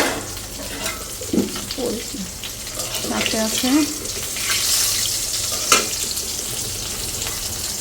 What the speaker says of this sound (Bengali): বেগুন ভাজছি এখানে সাথে কাঁচামরিচ ভাজা